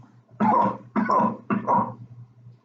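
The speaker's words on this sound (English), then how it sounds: "I'm going to cough a couple times" Three close, forceful coughs in quick succession, each a short harsh burst, with a faint low hum underneath.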